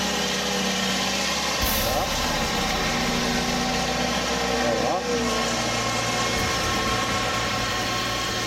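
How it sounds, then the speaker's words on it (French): Steady engine running at a constant speed, a loud continuous drone with a low hum that shifts slightly partway through, with faint voices beneath. "Là, au régime moteur, on l'entend parfaitement tourner."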